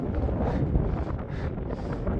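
Steady wind buffets the microphone high on a 6000-metre mountain near 5,826 metres, a loud continuous low rumble with gusty swells and no talk.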